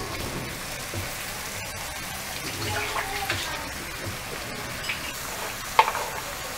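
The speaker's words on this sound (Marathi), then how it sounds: "उभा कापून घेतलेला कांदा घालायचा" Sliced onion frying in a pan for Khandeshi onion bhaji, a steady soft sizzle continuing throughout with a few light stirring clinks and one sharper tap near the end.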